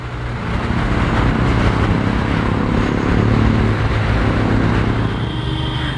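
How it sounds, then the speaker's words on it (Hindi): A car driven hard and accelerating fast gives a loud, close, continuous roar of engine and road noise that barely changes for the whole stretch, with no voices. "भाई भगाओ गाड़ी जितनी भगा सकते हो"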